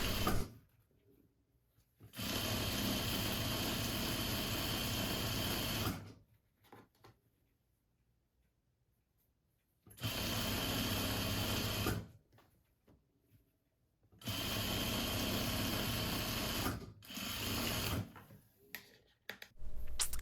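Sewing machine stitching the sleeve and underarm seams of a peplum cardigan, running in three long steady bursts of several seconds each with quiet pauses between, close and loud with no talk.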